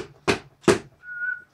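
Two sharp breathy bursts followed by a short, steady single-pitch whistle, close and fairly soft.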